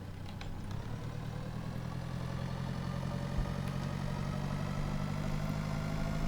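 A farm tractor engine in the video game Pure Farming 2018, a low, steady idling drone that holds at a faint, even level throughout with no talk.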